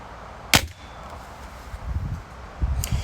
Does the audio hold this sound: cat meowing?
no